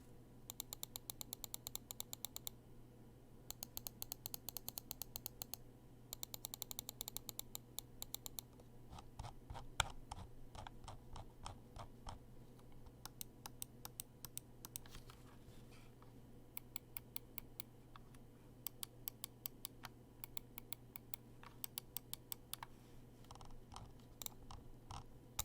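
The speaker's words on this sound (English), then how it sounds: "I'm just gonna go ahead and do a quick clicking test" Buttons on an Aukey gaming mouse are clicked in quick repeated bursts, sharp and faint, with short pauses between runs of rapid clicks.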